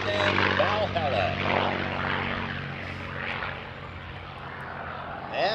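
A P-51D Mustang warbird performs a four-point hesitation roll at the Abbotsford Airshow, its propeller engine droning steadily at a distance beneath continuous announcer talk.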